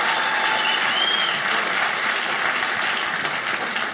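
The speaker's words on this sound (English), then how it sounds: "Give Jason a big round of applause." A comedy club audience gives a sustained round of applause, a full, even clatter of many hands with light crowd noise mixed in, steady throughout.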